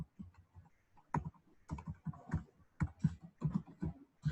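Keys clattering on a computer keyboard while entering values into a database table, with irregular bursts of clicks and short pauses, fairly close and moderately loud, no voices.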